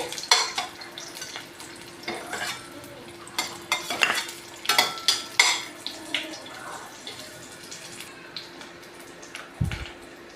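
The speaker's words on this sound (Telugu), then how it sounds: "ఆయిల్ హీట్ అయిందండి తెల్లుల్లి కొంచెం వేగాలి" Garlic frying in hot oil in a pan, with a soft sizzle under repeated spoon stirring and scraping clatter against the pan, up close and uneven in rhythm.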